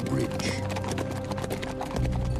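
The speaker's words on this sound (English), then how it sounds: "With Li Shimin, they broke out of the city and rode for the bridge" Horses ride hard out of an ancient city toward a bridge, with steady clip-clop hoofbeats running through the whole stretch amid music and narration.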